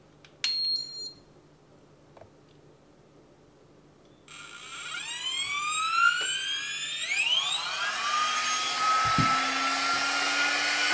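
A GHD Duet 2-in-1 hair dryer straightener starts up after a short quiet gap, its motor whine rising steeply in pitch and then settling into a steady, fairly loud whirring airflow that runs to the end.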